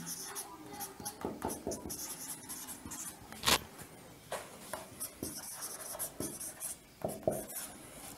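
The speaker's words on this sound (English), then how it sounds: "And here we write" Handwriting during a chemistry lesson on ammonia gas, with soft, intermittent scratching and scraping strokes up close and one sharper tap midway, alongside quiet speech.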